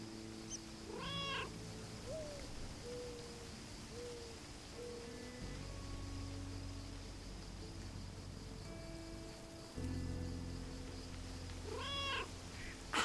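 Cats meow and purr in the video game Lake, with soft, fairly distant meows rising over a low, steady purring and quiet ambient hum.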